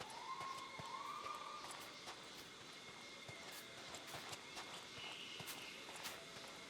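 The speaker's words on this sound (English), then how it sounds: "Okay, that's my own footsteps I'm hearing." The player's own footsteps in the video game Bootstrap Island tap in a steady, faint rhythm of regular steps, with a thin, whistling, siren-like tone drifting behind them.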